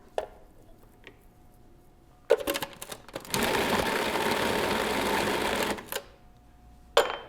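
Pork meat pulsed in a food processor to mimic a grinder: a few short whirring bursts, then a steady loud grinding whir for about two and a half seconds, and a final brief pulse, with no talk.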